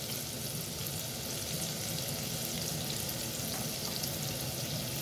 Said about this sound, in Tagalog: Igisa-gisa natin guys